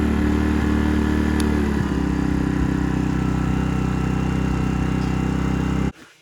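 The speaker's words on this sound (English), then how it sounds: "the engine will idle down" Portable Sportsman generator engine running steadily at a loud, close idle with a constant low hum, then settling down as economy mode idles it back before the sound cuts off near the end.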